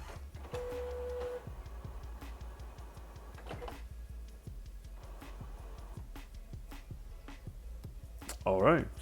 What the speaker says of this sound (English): So we're going to turn on this printer and make sure that it is turning on correctly.